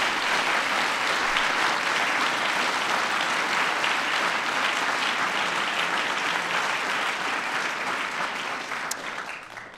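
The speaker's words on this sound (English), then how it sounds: "that's worthy of applause" Dense, sustained applause from a large audience at a White House science and technology medals ceremony, a loud continuous roar of clapping that holds steady for several seconds before easing off near the end.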